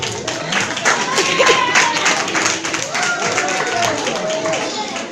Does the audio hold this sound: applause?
yes